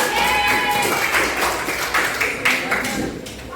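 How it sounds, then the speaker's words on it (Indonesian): A classroom of students claps for a group stepping up to present, with dense, fairly close hand claps that thin out slightly toward the end. "Tepuk tangan dong untuk kelompok 1."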